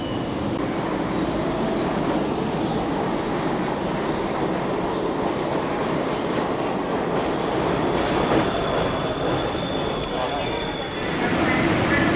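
New York subway train in a hot underground metro station, a loud, continuous rumble of cars rolling past with clacking wheels and a high squeal of wheels and brakes near the end.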